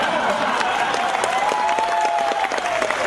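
Loud, continuous audience applause fills the hall at an entrepreneurs' gathering, with a sustained tone or feedback-like hum running underneath the steady clapping.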